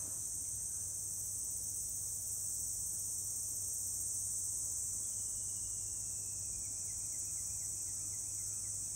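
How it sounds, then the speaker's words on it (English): Steady, continuous high-pitched chirring of crickets and other insects outdoors in the morning, a dense unbroken trill held at even loudness throughout with no voices over it. "Something from the insects."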